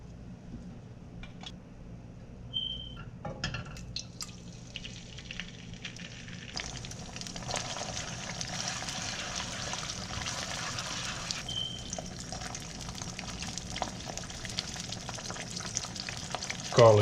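Olive oil frying in a pan for a pasta sauce, a soft steady sizzle with occasional clinks and scraping stirs, faint and close, building slightly as it goes.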